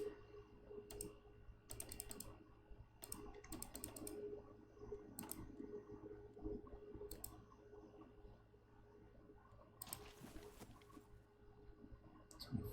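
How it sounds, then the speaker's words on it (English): Mouse and keyboard clicks on computer menus come as faint, sharp, irregular clicks, some in quick clusters, over a quiet background hum. "clicking around menus."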